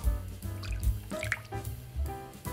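Plain water poured into a bowl holding soy sauce, oyster sauce, sesame oil, sugar and chili powder for a sweet-chili sauce, giving short, close splashing and dripping sounds over about two seconds.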